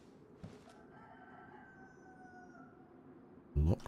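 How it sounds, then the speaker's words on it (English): A bird calls in the DayZ game world, a sustained tonal cry near the middle of a quiet ambient stretch, followed by a sudden louder burst near the end. "Yeah, that's definitely a bird."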